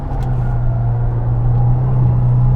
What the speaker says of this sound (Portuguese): se você pega o carro e você acelera, vou pegar uma curva aqui um pouquinho mais pesada